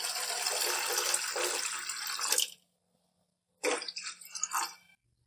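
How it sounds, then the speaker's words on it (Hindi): Water is poured into lentils for chicken haleem, giving a splashy pour that stops midway and then a shorter second burst of pouring and sloshing. It is fairly close, and there is no talk. "अब इसके अंदर मजीद पानी डाल देंगे, तकरीबन 3 से 4 गिलास,"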